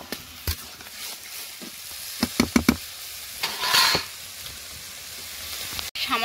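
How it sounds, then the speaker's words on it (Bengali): Fried fish tipped into a pan with turmeric and salt in a Bengali home kitchen, giving a soft sizzle with a few sharp clinks and stirring knocks midway, fairly close and without talk. "হলুদ লবণ দিয়ে একটু ঘেঁটে তার মধ্যে ভেজে রাখা মাছগুলোও দিয়ে দেবো।"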